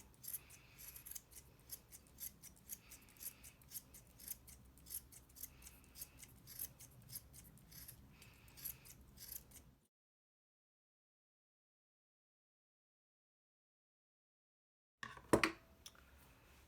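Scissors trimming a yarn pom pom, a quiet run of quick, regular snipping for about ten seconds, then silence, then a brief louder snip and rustle.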